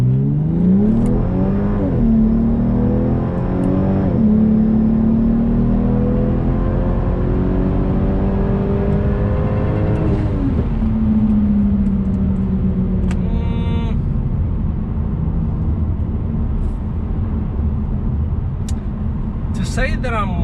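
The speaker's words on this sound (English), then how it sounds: "I'm gonna do the shifting by myself, manual shifting" A Volvo S60 T6 fitted with an Elevate intake manifold accelerates hard with manually selected shifts. The loud engine drone climbs in pitch, drops at each gear change and climbs again, and the drive continues under steady road and cabin noise.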